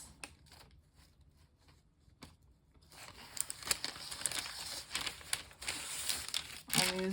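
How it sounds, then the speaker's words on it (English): A sheet of parchment paper, laid on a table for a Christmas wax seal craft, rustles and crinkles up close in irregular bursts after a quieter opening few seconds. "I'm using a parchment paper"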